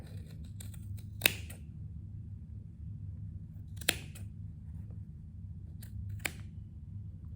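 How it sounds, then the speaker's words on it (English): Scissors snip through the yarn loops of a pom pom for a craft cactus, three crisp isolated cuts spaced a few seconds apart, close and clear over a quiet background with no talking. "Just put your scissors right in the middle of that loop."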